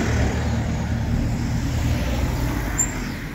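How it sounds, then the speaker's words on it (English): A bus idles and rumbles on Far Gosford Street in Coventry, a steady, close, low engine drone mixed with general traffic noise that continues for the whole stretch without a break. "We've got a bus in the way"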